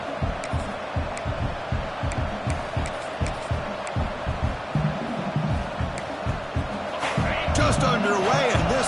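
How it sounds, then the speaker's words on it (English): A fired-up home crowd roars steadily through a college football video game, with sharp thumping hits punctuating it and the noise swelling louder near the end, while a commentator talks over it. "this home crowd is fired up and ready to make a difference today"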